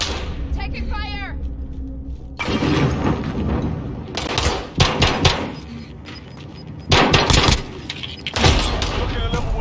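Gunfire from the video game Call of Duty Warzone rings out in several loud, sharp bursts separated by brief lulls, mixed with game voice lines and other battle noise.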